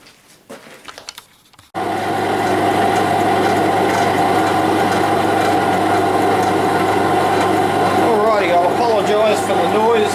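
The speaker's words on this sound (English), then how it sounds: "For the noise of the blower," A forge blower starts up abruptly after a few quiet seconds of handling noise, then drones loud and steady with a deep rumbling roar, close by and unbroken.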